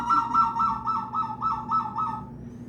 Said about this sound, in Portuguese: Isso é um pássaro ventríloco, que é o surucuá do Papa Amarelo